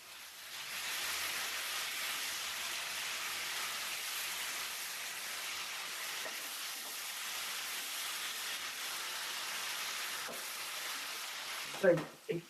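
Chicken shallow frying in a pan for a spicy Kerala chicken curry, a steady close sizzle with crackle running throughout, with a couple of louder clatters near the end.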